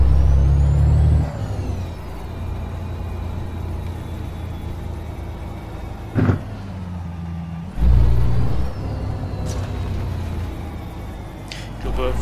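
A Mack truck in American Truck Simulator rumbles loudly with a deep, steady engine drone. An air-brake hiss cuts in partway through and a heavy burst of revving follows. Someone talks over it.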